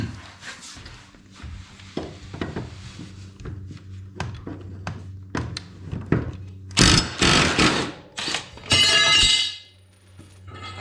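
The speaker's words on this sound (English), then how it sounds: "I got the 15/16 socket with the Ryoby 1/2 inch. I'm gonna try to get over here on this side and hit this blade first." Ryobi 1/2 inch impact wrench with a 15/16 socket hammers on a mower blade bolt, scattered metallic clanks and handling noises followed by two loud rattling bursts of the wrench close by.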